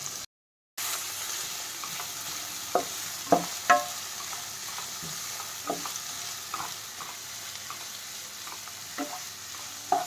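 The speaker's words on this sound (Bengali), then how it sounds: "বেশ ভালো করে এটাকে নাড়াচাড়া করতে হবে আর অবশ্যই হাই ফ্লেমে করবেন" Garlic, onion, capsicum, carrot, tomato and green chili are stir-fried over high flame for spaghetti, a soft continuous sizzle broken by scattered clicks and scrapes of the spatula, fairly quiet after a brief silent gap at the start.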